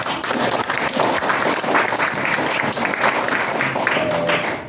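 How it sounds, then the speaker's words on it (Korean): A crowd at a political party gathering claps loudly and continuously, a thick steady roar of hands with some scattered voices under it. "박수 한번 세게 하십시오."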